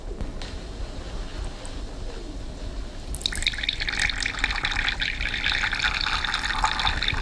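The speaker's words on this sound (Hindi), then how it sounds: "अब मैं ये पत्थर इस पानी में डालूंगी।" A stone drops into a glass of water. Faint drips and quiet background come first, then a sudden splash leads into a sustained bright trickle of spilling water that continues to the end.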